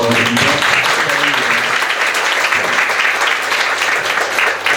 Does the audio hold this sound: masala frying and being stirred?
no